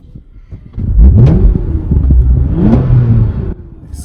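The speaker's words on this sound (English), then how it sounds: "exhaust has a very nice tone, very, very deep tone." A 2020 Toyota Camry TRD accelerates close by, its engine rising into a deep, rumbling exhaust note that swells after a quiet start and holds steady before easing off near the end.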